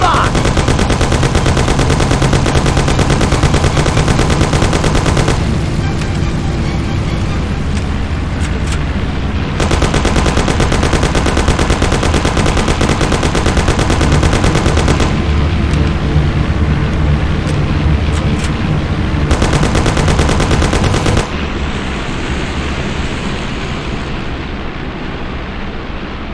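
Heavy gunfire in the Mafia PC video game, long bursts of dense rapid machine-gun fire alternating with quieter stretches of engine rumble, loud and close, fading into a calmer rumble at the end.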